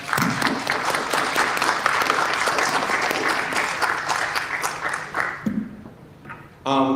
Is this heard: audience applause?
yes